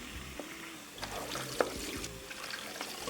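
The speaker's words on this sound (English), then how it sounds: "pour it over into my Dollar Tree colander, and add some cold water to cool that rice down" Cold tap water running over boiled brown rice in a colander, a faint, uneven trickle and splash with small clinks and drips, quiet and close.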